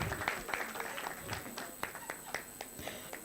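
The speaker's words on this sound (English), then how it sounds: "An amazing round of applause for this nutrition champion." An audience claps for a nutrition champion at a Kenya nutrient profile model dissemination event. Scattered applause crackles at moderate distance, with sharp individual claps over a thin crowd wash.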